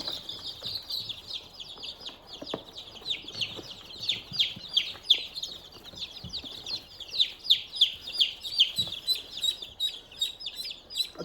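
Backyard chickens call again and again in a coop, bursts of high, quick clucks and peeps that come in fast runs and grow louder and denser toward the end.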